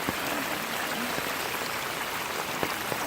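Hurricane floodwater rushing down a street, a steady broad wash of flowing water with a few faint splashes, continuous and close, no talking.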